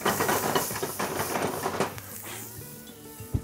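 Red onions sizzling in hot oil in a pan, a dense, bright hiss that is loud at first and eases off, with a clunk near the end.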